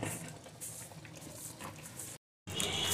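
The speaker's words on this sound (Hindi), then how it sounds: "7 से 8 मिनट हो गए इसको पकते हुए, देखें दही ने पानी छोड़ दिया" Chicken white karahi simmering in a pot with yogurt that has released its water, a close, continuous bubbling with a brief gap before the bubbling resumes.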